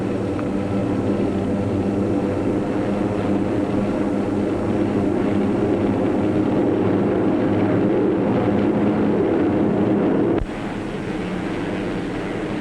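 Steady, droning propeller hum of P-47 fighter planes flying escort in World War II wartime footage, a continuous loud engine roar with wind-like rush that holds even throughout, briefly dipping near the end.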